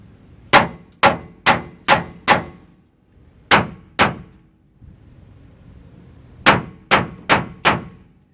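Heavy hammer blows clang against rusted rear leaf spring bracket bolts on a Ford Ranger XLT Flare Side Step pickup, struck in quick bursts of five, then two, then four sharp metallic hits with pauses between, close and loud.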